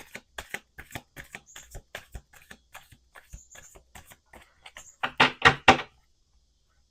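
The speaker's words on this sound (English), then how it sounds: "We're doing 2 more shuffles." A deck of cards shuffled by hand gives a run of quick, rhythmic riffling bursts, close and crisp, ending with a few louder riffles before silence.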